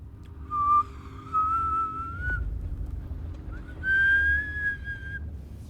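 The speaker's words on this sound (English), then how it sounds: "the silence around them was shattered by the sound of a whistle." A train whistle sounds in two clear, drawn-out blasts whose pitch slides upward, separated by a short gap, over a low rumbling background.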